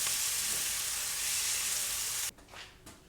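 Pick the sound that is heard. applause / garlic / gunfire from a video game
garlic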